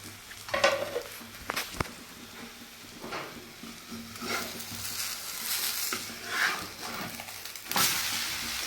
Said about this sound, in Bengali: আমার ডিম ভাজা হয়ে গেছে